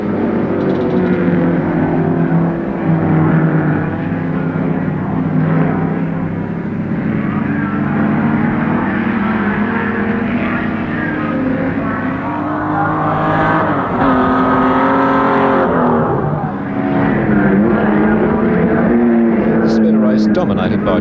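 Holden Torana touring cars race at Warwick Farm in the 1973 South Pacific Touring Car Series, their engines droning and revving steadily beneath a commentator who talks throughout.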